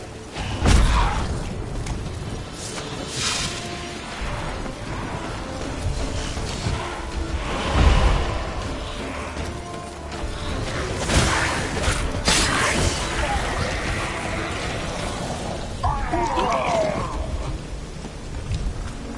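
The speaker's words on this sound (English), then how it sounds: "A magic explosion of some sort." A powerful magic explosion in the video game Witcher 3, heard as deep booming blasts at the start and again midway, over a continuous roaring, rain-like rumble that lasts throughout.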